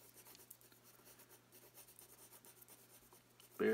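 A pencil shades very lightly across paper with its side, making a soft, steady, faint scratchy rasp that continues throughout, ending in a short louder bump.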